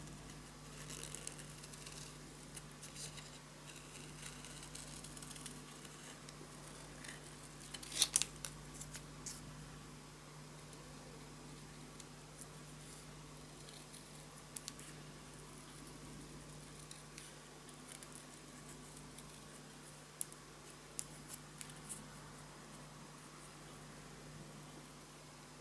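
Scissors cut out a paper piece for a scrapbook album, giving faint, scattered snips over a quiet room hum.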